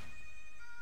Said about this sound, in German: Okay, Krankenwagen.